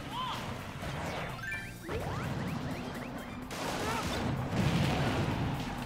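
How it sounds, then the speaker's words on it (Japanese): Explosions and impacts from a Super Smash Bros match crash repeatedly amid whooshing game effects and busy background sound, several sharp bursts spread across a loud, continuous mix. "いっそ爆発しちゃった。"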